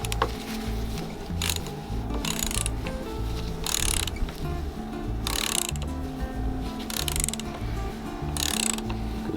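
A ratchet wrench tightens the fork tube top cap on a Harley Davidson FXR front suspension, clicking in loud, close, rhythmic bursts of rapid pawl ticks with short pauses between strokes and no talking.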